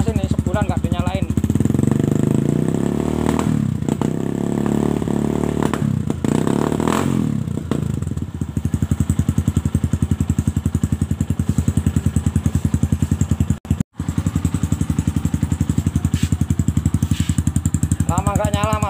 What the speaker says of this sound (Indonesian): Suara mesin masih adem, padat.